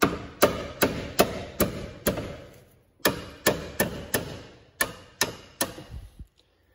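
A hammer strikes a stuck CV axle part in a series of sharp metallic blows, about a dozen hits in two evenly paced bursts with a brief pause between, loud and close with no talk.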